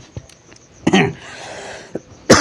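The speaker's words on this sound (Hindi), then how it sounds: "खांसी आई गई, कोई दिक्कत नहीं।" A person coughing during a class 10 math lesson: a few short throat bursts, one longer rough cough in the middle and a sharper one at the end, close and moderately loud with no speech.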